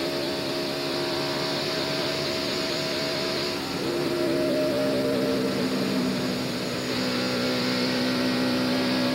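NASCAR stock car engine at full throttle on a racetrack, a continuous loud droning roar with steady pitch and a slight shift midway, heard alone without talk.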